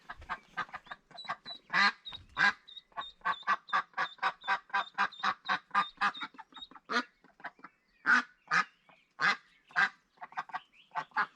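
Ducks quack loudly and repeatedly at close range, a rapid run of nasal honking calls with short pauses, clear against a quiet background.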